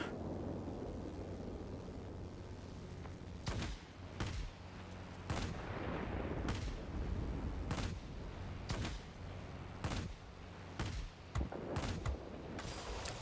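Aircraft guns fire in World of Warplanes during a Tempest Mk V match, heard as scattered bursts of sharp shots over a constant engine and wind roar, fairly distant and spaced irregularly.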